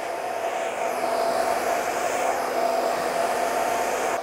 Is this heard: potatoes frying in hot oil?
no